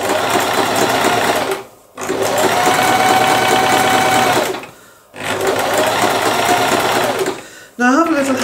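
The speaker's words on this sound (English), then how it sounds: "Now I have a little hand sewing machine as well" A sewing machine runs in three steady, loud stretches of rapid mechanical chatter, each stopping briefly before starting again.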